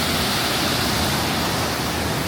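Šum waterfall on the Radovna River, heard as a dense, constant roar of rushing, falling water up close, loud and unbroken.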